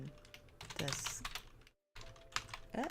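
Fingers tap out quick bursts of keystrokes on a computer keyboard, close and fairly clear, broken by a brief silent gap partway through.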